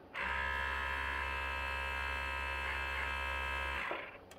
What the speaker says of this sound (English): Rotation of the motor. We'll get the vibration test.